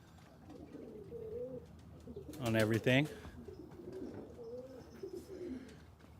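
Pigeons and king pigeons coo softly in a full-flight aviary, low rolling calls repeating throughout under a person talking nearby.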